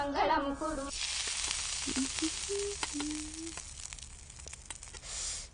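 Puris frying in hot oil in a home kitchen, a steady broadband sizzle running throughout, preceded by a brief voice at the start and faint tonal sounds under the hiss.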